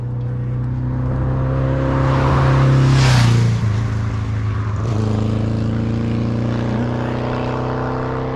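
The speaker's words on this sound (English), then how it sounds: "About to get buzzed by another motorbike." A motorbike passes close to a cyclist on a country lane in Devon, its engine note loud and rising as it approaches, peaking mid-pass, then dropping in pitch as it pulls away.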